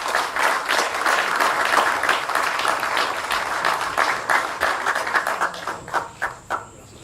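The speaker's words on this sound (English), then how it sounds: "Please applaud Constable Charles." At a security services regional recognition awards ceremony, an audience claps for a constable. The applause is full and steady at first, then thins into a few separate, fading claps near the end.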